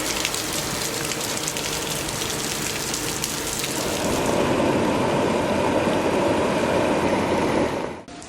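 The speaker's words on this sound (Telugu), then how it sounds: "విపరీతమైనటువంటి వర్షాలు కురుస్తున్నాయి కడప జిల్లాలో" Heavy monsoon rain pours down in Kadapa district around Railway Koduru, a dense, steady roar of water with no voices, growing fuller and heavier partway through before cutting off abruptly.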